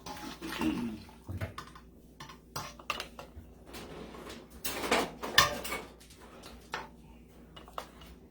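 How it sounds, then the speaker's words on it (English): Dry garbanzo beans being packed into glass canning jars, with scattered rattling, pouring and clinking sounds close up, irregular bursts separated by quieter gaps. "So you just pack your jars with the beans."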